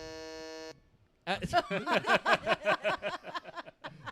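A single sustained electronic beep, steady and clear for under a second, then a brief pause before several people begin talking.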